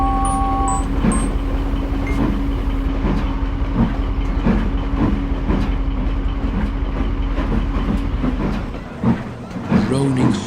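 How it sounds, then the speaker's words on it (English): A video game train rumbles along with a steady low drone and regular clickety-clack beats, loud and close, groaning slowly on curves, the noise easing briefly near the end, in Trainz. "Groaning horribly on the curves, James went slowly down to the harbour"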